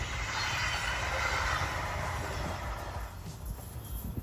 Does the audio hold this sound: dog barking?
no